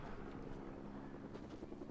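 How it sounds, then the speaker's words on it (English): Helicopter in the video game Fortnite flying nearby, a steady, loud rotor drone with rhythmic chopping that holds throughout. "And there's a chopper."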